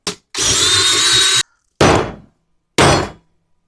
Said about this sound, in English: I'm going to go ahead and get my drill bits out here, and we're going to go with a 1/2 inch drill bit.